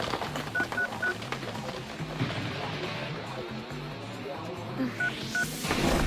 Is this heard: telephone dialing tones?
yes